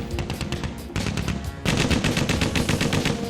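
Rapid bursts of machine gun fire in a World War II battle scene, sustained and loud, with a brief pause before a heavier, denser volley resumes.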